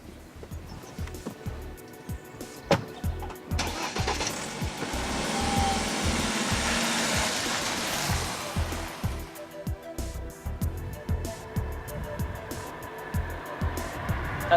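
A BMW 328 Touring petrol estate car is driven along roads in the south of France, its engine and tyre rumble rising and swelling mid-way, with clattering knocks and road noise around it.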